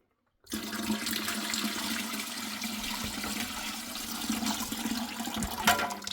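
Water gushes steadily from a tap into a canner being filled for canning black-eyed peas, a loud, continuous rushing pour that starts abruptly and keeps going.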